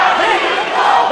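A boxing arena crowd roars during a bout between Francisco Horta and David Reyes, a loud sustained wall of cheering and shouting.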